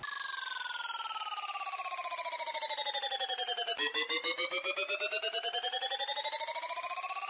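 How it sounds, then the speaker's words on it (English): A looped electronic beep treated with ring modulation, rapid pulsing tones with metallic, inharmonic overtones that glide downward, then jump and glide again, steady and loud with no voices. "I took one of the beeps and added a ring modulation to it"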